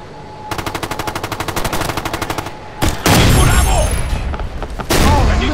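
Rapid machine-gun fire rattles in a steady stream, followed by heavy booming grenade blasts and further loud bursts of gunfire in the Ghost Recon Future Soldier video game, with voices faintly under the action.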